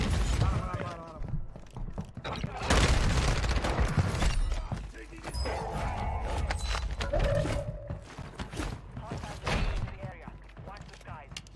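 Gunfire in Warzone 2 with a TAQ-56 rifle loadout comes in dense bursts and scattered shots, mixed with game effects, while a player talks excitedly over the fighting.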